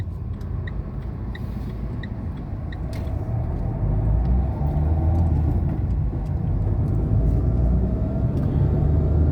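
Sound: car pulling away in first gear at a junction

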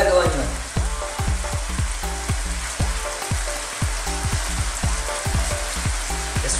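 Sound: red onion frying in pan for Bicol Express pork

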